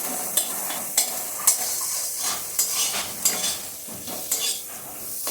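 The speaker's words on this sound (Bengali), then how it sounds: "একসাথে আমি কুলটা দিয়ে ভেজে নেব।" Jujube (kul) frying with turmeric in a pan, with steady sizzling broken by regular scraping and clinking strokes of a spatula against the pan.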